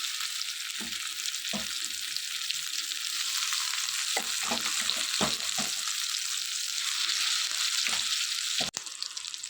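Ridge gourd chutney stirred into a hot tempering in a pan, giving a steady loud sizzle throughout with repeated scraping strokes of a spoon against the pan, no talking.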